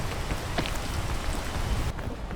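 Rain falls steadily in a video game, a dense close hiss of drops on surfaces that drops away abruptly near the end, with no voices over it.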